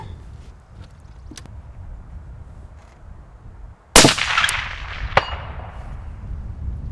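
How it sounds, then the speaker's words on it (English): A 6.5 Creedmoor rifle fires one loud, sharp shot that rings a small green steel target on an outdoor range. A metallic ring decays over the next seconds, and a fainter clank comes just after. "Now we're going to slide over and shoot the small green target."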